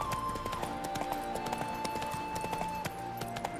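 Steady clip-clop of horse hooves at a brisk, regular pace in the video game The Witcher 3: Hearts of Stone, fairly quiet, with a soft musical tone running underneath.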